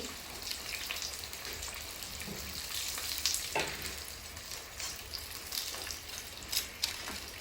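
Garlic tempering in hot oil, a continuous crackling sizzle heard fairly softly up close, with brief sharper spits and pops scattered through.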